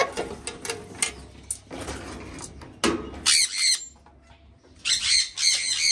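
Pet parrots squawk at feeding time in bursts of harsh, loud, close calls that come in clustered rapid runs, mixed with rustling and clattering of feed near the cage.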